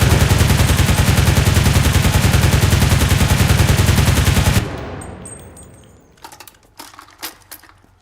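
A DPM light machine gun fires a long sustained burst in a video game, loud and continuous for about four and a half seconds, then cuts off into a fading tail with a few sharp clinks and rattles.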